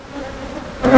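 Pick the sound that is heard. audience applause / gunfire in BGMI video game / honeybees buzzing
honeybees buzzing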